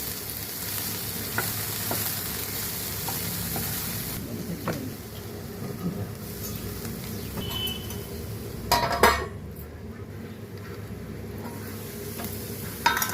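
Okra and potato pieces sizzle steadily in a hot pan as a dry stir-fry, with occasional scraping stirs and light clinks of a utensil against the pan, and no talking.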